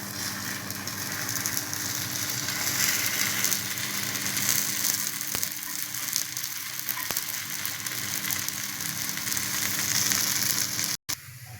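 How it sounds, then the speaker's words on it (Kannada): Masala paddu batter sizzling in a pan after being flipped: steady, moderately quiet frying hiss and crackle with no talk, ending in a brief cutoff. "ಇವಾಗ ಪಡ್ಡನ್ನು ತಿರುವಿ ಹಾಕೋಣ"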